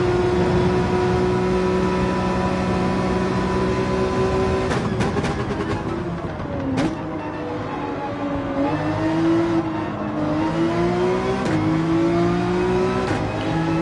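A race car engine held at full throttle in Gran Turismo 7 drones loud and steady, its pitch climbing and dipping through gear changes with brief shifts, close and with no talk.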